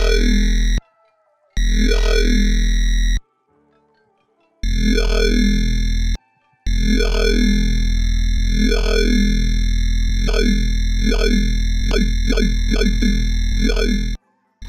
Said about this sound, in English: It gives the sub distortion.